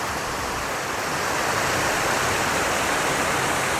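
A mountain stream in the Great Smoky Mountains rushes over rocks along a mossy hillside trail, a dense, loud, continuous broadband wash of water close by with no talking.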